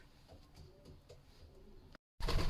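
Pigeons in a breeding shed give low, soft coos in a few short phrases, fairly quiet, before a brief cut and a louder burst of noise at the end.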